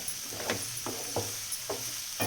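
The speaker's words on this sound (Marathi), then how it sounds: "खोबरं कोथिंबीर आलं लसूण हे टाकून घेते आता चांगलं भाजू द्यायचं" Ground paste of coconut, coriander, ginger and garlic roasting in oil, a soft sizzle under repeated spoon strokes scraping the pan, about five spaced stirs, close and fairly quiet.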